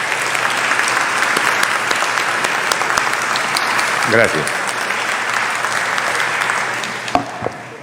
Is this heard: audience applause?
yes